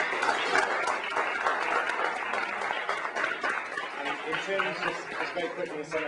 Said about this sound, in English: a big round of applause to all three of you